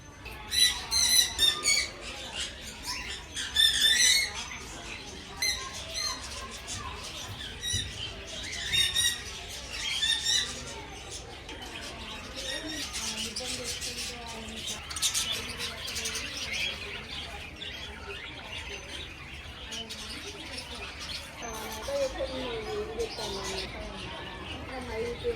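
Parrots of several kinds screech and squawk at a crafts village park, with chattering calls layered over music and crowd noise throughout, fairly busy and continuous.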